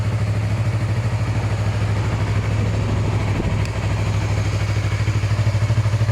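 A Yamaha YZF-R3 motorcycle engine runs steadily nearby with a deep, throbbing low rumble and faint mechanical clatter, holding a constant idle-like note throughout.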